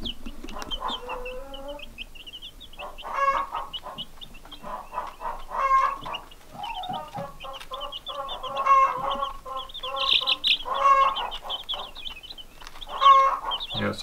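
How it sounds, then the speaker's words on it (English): Hens cluck and cackle steadily while feeding, a busy flock of overlapping calls close by with a few louder cackling bursts and no talking. "they hear the other hen cackling in the background"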